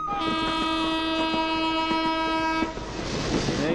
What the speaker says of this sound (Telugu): శ్రీకారం చుట్టిందిరా ట్రైన్